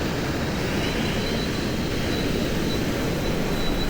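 A fishing drone flies out over the sea carrying a snapper rig, its motors giving a steady, loud broadband whir with no breaks from start to end.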